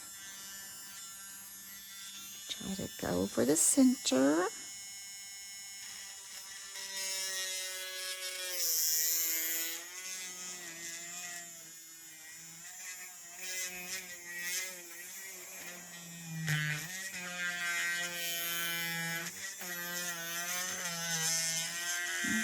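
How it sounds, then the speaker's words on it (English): A small electric drill whirs steadily for a long stretch, its pitch rising and dipping as it works, with a brief spoken remark near the start. "Let's turn our little drill on."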